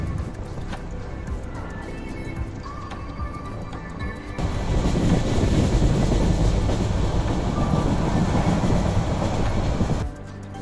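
The Cox's Bazar Express passenger train runs on rails across the bridge over the Karnaphuli River. A steady, close rumble grows noticeably louder and fuller partway through, then eases near the end.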